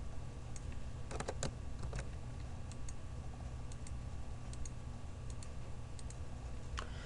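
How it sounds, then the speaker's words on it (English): Quiet, irregular clicking of keys on a computer keyboard in short bursts over a steady low hum. "So now let's start typing."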